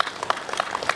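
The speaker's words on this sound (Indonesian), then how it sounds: "mari kita berikan tepuk tangan yang meriah dulu" A crowd claps steadily at an outdoor Independence Day flag ceremony in Kampar, Indonesia, producing dense, continuous applause with no pauses.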